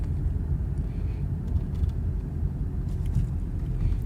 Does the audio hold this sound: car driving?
yes